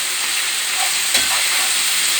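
Masala spice paste frying in a pan with a splash of water, giving a steady, close hiss and sizzle that holds evenly throughout, with a faint stir near the middle.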